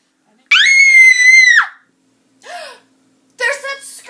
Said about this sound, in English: There's that scream again.